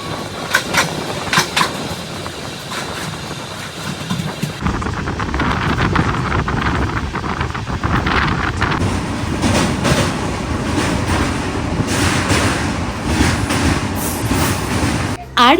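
A passenger train rolls along near Shihra Road station en route to Jabalpur, with a loud, continuous rumble and rattling wheel clatter, rising after a quieter opening; wind buffets the microphone.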